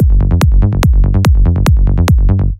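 A harsh, loud synth bassline with its filter bypassed pulses in a fast, steady rhythm of bright, buzzy plucked notes and sharp accents, playing alone for a few seconds before cutting off.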